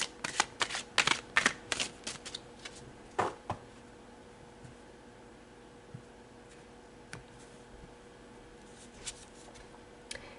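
Tarot cards riffled and shuffled close by, a dense burst of crisp flicks in the first few seconds, then a sharp snap and scattered single card pulls and slides over quiet room tone, no talking.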